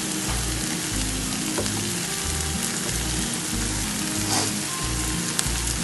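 An ostrich egg scramble with grated coconut sizzles and crackles steadily in a hot pan as it is stirred, a continuous close frying hiss with occasional scraping.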